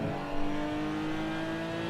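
A Toyota race car in the Assetto Corsa racing game gives off a steady engine drone with a strong tonal hum. The level holds fairly constant, with a small rev bump near the start, and no speech is heard.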